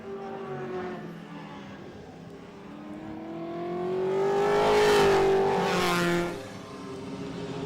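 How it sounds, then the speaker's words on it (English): Group C historic touring race car, a 308, accelerating hard on track at a festival-of-speed meeting; a loud engine note climbs and swells to a peak mid-clip, then drops back, with no talk. "Stretched the legs of the 308 to get back past Greg Keane."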